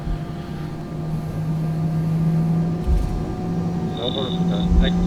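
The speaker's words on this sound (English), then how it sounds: "Engine noises are extremely loud in this aircraft on the ground." An airliner's engines in X-Plane 11, A320, A330 or B737 type, drone loudly on the ground with a steady tonal hum, while a voice talks over it.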